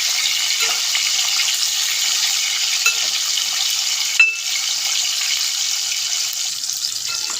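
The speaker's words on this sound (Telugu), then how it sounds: "అదే నూనెలో ఉప్పు చేప ముక్కలు వేపుకుందామండి" Salted fish pieces frying in hot oil, giving a steady, even hiss of sizzling with faint pops and one sharper crackle midway.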